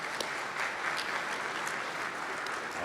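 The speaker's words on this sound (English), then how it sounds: "Round of applause." Warm applause from an audience at a Newark mayor's men's breakfast, a steady dense patter of many hands clapping at moderate distance, sustained evenly throughout without speech.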